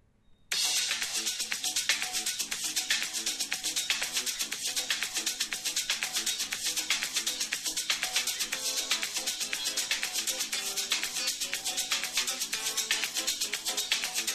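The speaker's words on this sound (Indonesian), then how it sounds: "Speakernya sudah menggunakan dual speaker stereo atas dan bawah." Music playing through the dual top-and-bottom stereo speakers of a Xiaomi Poco M3 phone, starting abruptly after a brief silence and continuing steadily with a bright, treble-heavy, thin-bass tone.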